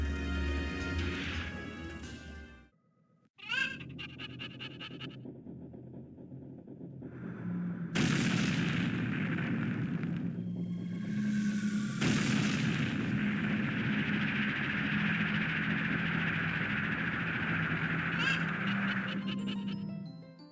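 Fire boss Volvagia from the Ocarina of Time video game bursting into flames and crashing down, a loud sustained roaring burn with heavy crashing impacts and game music-like tones, continuous for most of the stretch.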